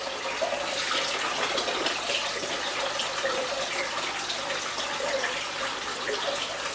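Water pours steadily from a tank into sealed plastic bags holding discus fish, half-filling them with a continuous close splashing rush that runs throughout without pause, with no voices.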